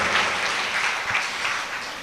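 A gathering at a Shrimad Bhagavat festival applauds two devotional groups, producing a dense, steady roar of clapping that holds for a couple of seconds.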